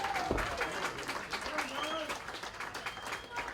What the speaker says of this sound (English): So you hear the home crowd.